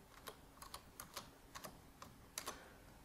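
Quiet, close keystrokes as a password is typed on a computer keyboard: about a dozen light clicks in an uneven rhythm, some in quick pairs, over a faint hum.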